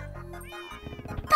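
A cartoonish cat in the Crashy Cats video game gives a short, bright meow, accompanied by electronic game tones and a sudden burst of effects at the end.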